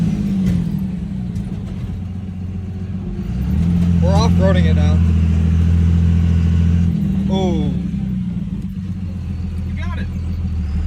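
Engine of a custom lifted truck off-roading through wet mud, a steady rumble that swells louder and holds mid-clip before easing off, with people talking and exclaiming over it.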